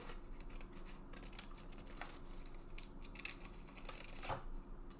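Scissors snipping through paper for a kids' rainbow craft, a quiet run of small crisp cuts and rustles, faint and close with no talk.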